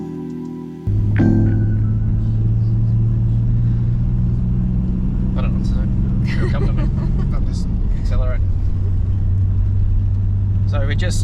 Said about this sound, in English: the old 100 series struggles a bit, so I'm driving in fourth a fair amount of the time